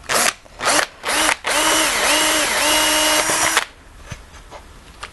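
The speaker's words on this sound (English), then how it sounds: "And I'll drill another hole here." A power drill whirs in a few short bursts, then runs steadily for a couple of seconds as it bores a hole for a half mortise lock, close by, before stopping.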